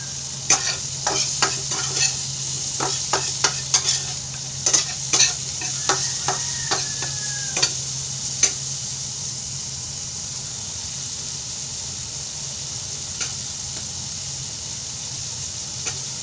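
Carrots, Baguio beans and cabbage stir-fried for fried rice, with a constant hiss of frying under a rapid run of sharp spatula clacks against the pan that thin out partway through, close and with no voices.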